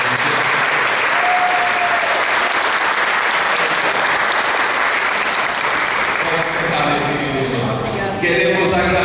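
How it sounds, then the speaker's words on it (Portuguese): A church congregation bursts into loud, sustained applause at the closing of the church's 93rd anniversary service. Dense clapping fills the whole stretch, with voices mixed in toward the end. "Vamos aplaudir a nossa igreja."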